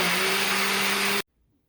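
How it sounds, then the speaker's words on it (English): A blender runs at full power on milk and grated Gouda cheese, a steady loud motor whir with a constant hum that cuts off abruptly, leaving near silence. "blend until it's a nice creamy mixture."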